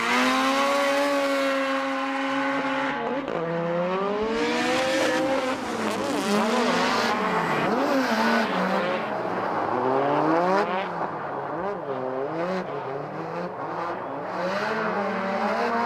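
Drift race cars launch together at Moscow Raceway during a Russian Drift Series GP round, engines screaming loudly as revs rise and fall in rapid, overlapping sweeps, with hints of tire squeal throughout.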